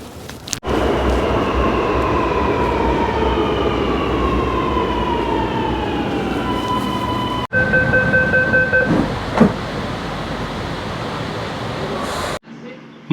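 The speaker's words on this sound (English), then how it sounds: "Waiting for the robot train." A driverless metro train in Sydney hums and whines as it moves, the electric motor tone gliding downward, then a chime-like tone and hiss as it stops.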